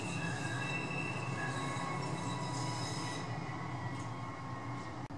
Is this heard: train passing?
yes